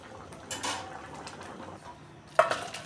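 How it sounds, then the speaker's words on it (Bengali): Jackfruit curry being stirred in a pot, a few scraping and clinking strokes of a spoon against the metal, close by and moderately loud, with a sharper clank near the end. "এবার নাড়াচাড়া করে ঝোলটা যখন একটু ঘন হয়ে আসবে"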